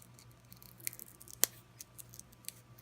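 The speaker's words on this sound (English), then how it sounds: "So I'm going to peel off the back." Backing is peeled off a sheet of craft foil double-sided adhesive, giving soft, faint crackly ticks and one sharper snap as the liner separates, close up in a quiet room.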